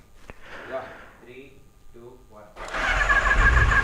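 Superbike engines start at a large motorcycle meetup at Eagleton: after a stretch of talking, a loud, dense roar bursts in and keeps going to the end.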